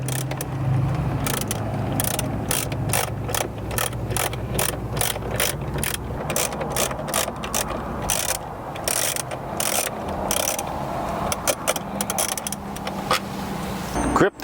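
A hand ratchet clicks rapidly and steadily for many seconds, close up, backing out 10mm bolts inside the dashboard of a 2012-2015 Lexus LX, over a low background hum.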